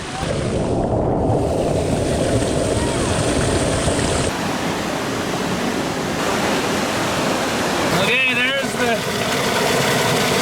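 Dirty water with gravel flowing through an off-grid micro hydro engine, a loud continuous rushing and splashing, with a brief metallic squeal and clatter near the end.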